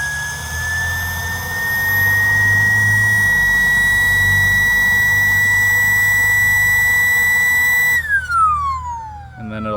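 A Fanttik X9 Cross portable battery-powered pump runs with a loud, steady high whine that rises slightly as it revs, holds, then drops in pitch and cuts out near the end.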